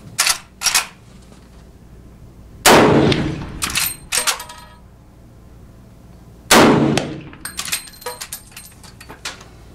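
Two loud gunshots from handloaded 500 S&W revolver rounds fired across a chronograph at a range, each a sharp blast with a ringing tail, separated by about four seconds, with a few lighter clanks and clicks around them.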